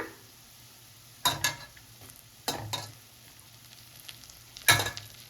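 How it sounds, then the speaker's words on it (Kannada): Curry leaves hit hot oil for garlic rice, giving three short bursts of crackling sizzle over a faint low background hiss, with quiet pauses between them. "ಇದಕ್ಕೆ ಇವಾಗ ಕರಿಬೇವು ಹಾಕ್ಕೊಳ್ಳೋಣ"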